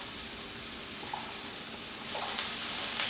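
Onions frying in hot oil in a pan, giving a steady close sizzle and crackle that swells slightly toward the end, with no talking.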